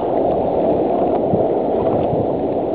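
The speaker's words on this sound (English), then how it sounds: "So here's the first wave of our set probably." Ocean surf rolling onto a beach, the first wave of a set, heard as a steady, loud, continuous roar of breaking and rushing water with no clear breaks.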